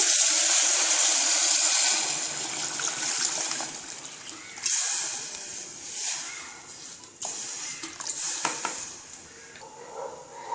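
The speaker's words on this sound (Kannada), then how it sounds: "ಬೇಯೋದಕ್ಕೆ ನೀರು ಹಾಕೋಣ." Water pours steadily into a cooker holding roasted green gram with a rushing, splashing hiss, then a few clinks and scrapes of metal as the flow stops and starts.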